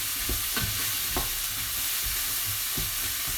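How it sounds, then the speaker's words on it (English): Pumpkin sauce stirred in a hot pan, with a few distinct scraping strokes over a constant background sizzle; close and fairly loud, no voices. "just giving that a nice stir"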